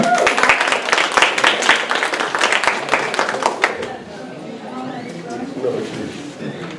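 Seminar audience at a 2015 Humana protein event applauding as a speaker is introduced, a few seconds of steady clapping with sharp individual claps that fades out, followed by a voice talking.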